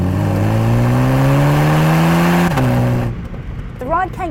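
Mini with a 2-litre turbo petrol engine in sport mode revs hard and loud, pitch climbing steadily before a brief dip at a gear kickdown, then the engine note drops away and fades near the end.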